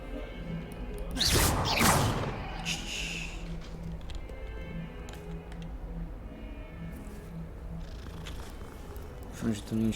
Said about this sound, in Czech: Doufám, že to není školníková kočka.